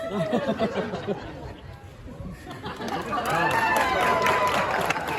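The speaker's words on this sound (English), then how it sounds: "Pity applause." Sparse, scattered clapping rises from an outdoor crowd at a Renaissance faire fire whip show, mixed with steady murmuring and chatter that grows a little louder toward the end.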